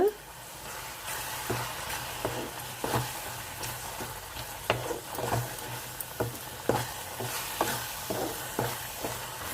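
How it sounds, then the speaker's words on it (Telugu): Ginger and garlic fry in a pan for a prawn and drumstick curry, giving a steady close sizzle broken by regular scraping stirs of a spoon against the pan. "పచ్చివాసన పోవాలి బాగానే వేగుతుంది కదండి"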